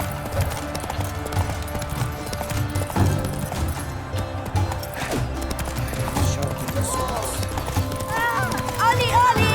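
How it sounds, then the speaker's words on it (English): Rapid clip-clop of galloping hooves pounding the ground, dense and continuous, with occasional whinnies and a busy, loud mix around it. "hoofs pounds the ground"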